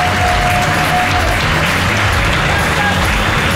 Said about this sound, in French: Mais arrêtez d'applaudir.